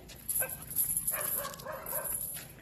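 Dogs yip and whimper in short, high, overlapping bursts, close and steady throughout, with a faint low hum underneath.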